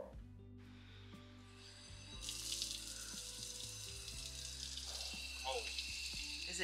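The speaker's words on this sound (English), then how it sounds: "They have an outside shower, which Phil and Phil, both Phils, decided to" Outdoor shower switching on, a steady hiss of spraying water that starts abruptly after a few seconds of quiet with background hum, continuing moderately loud with faint voices in the background.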